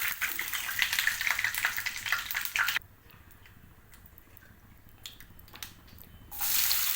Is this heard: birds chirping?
no